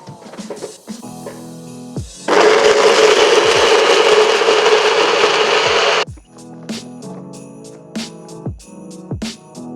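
A kitchen blender whirs loudly for several seconds, blending a mint chocolate avocado milkshake, bracketed by quieter clatter and tapping of the lid and machine before and after.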